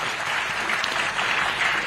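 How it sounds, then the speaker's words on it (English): Dense, steady applause rises from members of the Zambian Parliament, continuous and even across the short stretch with no talk over it. "I think we should give a round of applause"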